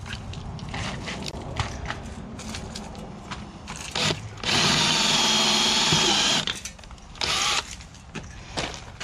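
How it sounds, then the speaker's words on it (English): A power drill whirs in short bursts, then runs steadily for about two seconds while boring a pilot hole to secure a gutter downspout strap, with handling clatter between bursts. "So you drill your pilot hole that you're going to secure it here."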